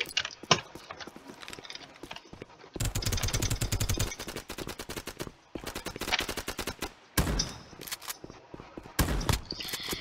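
Rapid bursts of gunfire from guns in the Roblox game Gun Testing, including a shotgun, firing in dense volleys and quick repeated shots with short pauses between, loud and close throughout.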